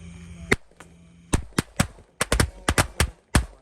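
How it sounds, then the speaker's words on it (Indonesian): Color Smoke Corsair XXXL firecracker going off at night during Ramadan, a rapid, uneven series of about fifteen sharp, loud bangs with brief gaps. "Selanjutnya kita nyalakan mercon Color Smoke Corsair XXXL"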